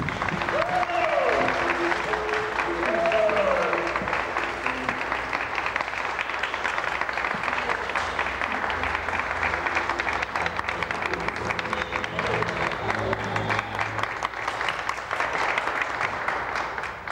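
Sustained applause from a theatre audience during a 1991 rehearsal of the play As Boas, a dense steady clapping that fills the whole stretch, with faint voices calling out early on.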